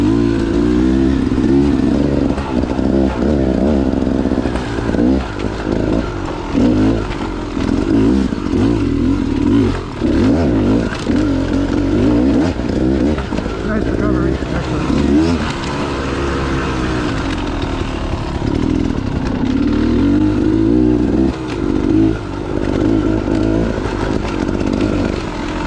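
A dirt motorcycle roars loud and close while climbing a steep fire road, its engine revving and surging continuously under throttle with rattling clatter from the rough trail, and no voices.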